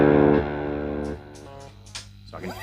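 An electric guitar chord rings out through a pedal board set with boost, reverb and tap delay, then decays into softer repeated echoes and a few lighter picked notes.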